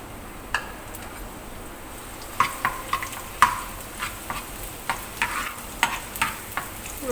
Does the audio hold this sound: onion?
yes